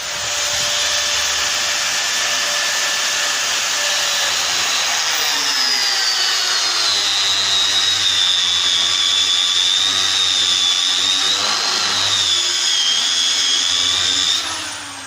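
A metal lathe machining an iron casting for an expendable faceplate, a loud continuous whine with shifting tonal cutting squeal and motor hum, steady and close for the whole stretch, with no talking.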